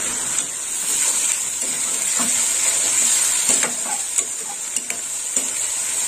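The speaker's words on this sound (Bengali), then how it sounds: "আদা রসুন বাটাটা এর সঙ্গে কষে নেব।" Ginger garlic paste sizzles and spits in a hot pan while being stirred, with a constant close hiss and occasional scraping clicks of the spoon, no voices.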